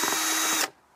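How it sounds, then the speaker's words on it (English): An electric drill fitted with a mixer paddle, stirring liquid for cement mixing, whines loud and close for about two-thirds of a second, then stops abruptly. "I've got a drill with a mixer on it"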